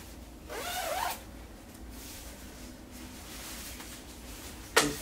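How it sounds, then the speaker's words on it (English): A zipper with a small leather pull on a men's hooded puffer jacket, sliding in a quick rasp near the start and then a sharp short zip at the end, close and quiet. "The zipper, it has a little leather handle here."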